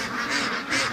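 Free-range ducks quack loudly and close, a short burst of two or three overlapping nasal calls with no one speaking.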